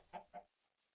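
Two short clucks from a chicken in the video game Minecraft, close and fairly quiet, spaced a fraction of a second apart, then near silence.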